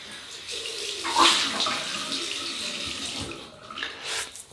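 Tap water runs into a sink while a man rinses his face during a shave with a 1966 Gillette Superspeed razor, a steady close splashing flow with a louder gush near the start.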